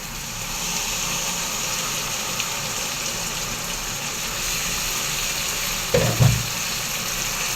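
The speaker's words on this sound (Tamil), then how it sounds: "அந்த பேஸ்ட்டை வந்து இதில் ஊற்றிக்கிடுவோம்." Tomato paste frying in a pan for egg gravy, giving a steady, even sizzle throughout, with a brief louder clatter near the end.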